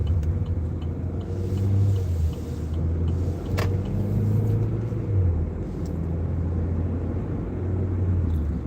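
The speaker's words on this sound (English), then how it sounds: "there's all the school buses going in." Road traffic with school buses driving past, a steady low engine rumble and tire roar that swells and eases continuously, fairly loud with no voices.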